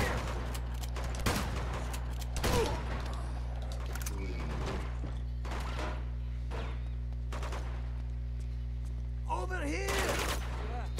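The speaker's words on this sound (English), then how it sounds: "Is that a minigun?" Loud bursts of rapid gunfire from a minigun in the video game Uncharted 2 Remastered, several volleys spread across a steady low game hum, with scattered brief voices between.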